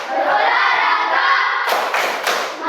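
A group of children chants and claps in a classroom, with loud sustained chanting and a few sharp clap bursts in the second half.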